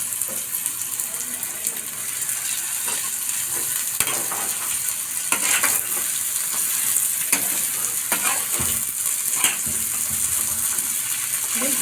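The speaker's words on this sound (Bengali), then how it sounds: "ভালো মতন ভাজা হয়ে গেলে নাড়াচাড়া করে এর মধ্যে এবার ওই ভেজানো চিড়েগুলো দিয়ে দেব।" Stir-frying in a pan for a flattened rice pilaf makes a loud, constant sizzle close by, broken by repeated scraping and knocking of a spatula against the pan throughout, with no talking.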